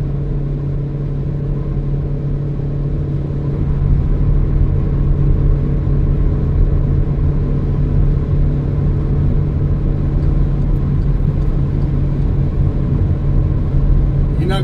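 A steady engine rumble and road noise from inside a car driving on the road, with a constant low hum throughout and a slight rise in level partway through.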